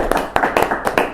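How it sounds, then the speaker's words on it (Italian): An audience applauds at a sports evening in Mestre honoring paracanoe athletes, heard as a handful of sharp, evenly spaced claps in quick rhythm, close and clear. "Quindi farei un bel applauso."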